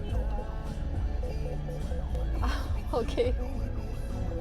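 An ambulance siren wails and rises through heavy city-center traffic in Kuşadası, heard from inside a moving car over engine rumble, with people talking briefly.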